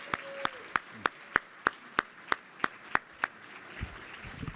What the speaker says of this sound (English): another round of applause for Governor Malloy and David Etzweiler.